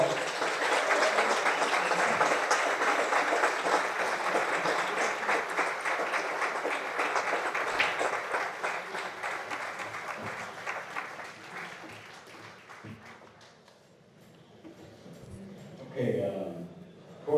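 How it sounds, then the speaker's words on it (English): A crowd at a U.S. Open 9-ball pool tournament applauds steadily and fairly loudly for about twelve seconds. The clapping then fades to quiet, and a few sounds and some talk follow near the end. "Let's give this man a nice round of applause."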